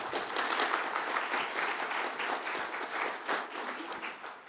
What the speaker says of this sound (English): Can we have a round of applause for Chris, please?